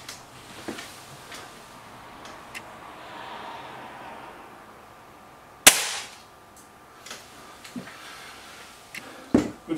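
An SMK B2 Deluxe air rifle fired at a target in a shooting match: one sharp, loud crack midway through a quiet stretch, followed by softer clicks and another short snap at the end.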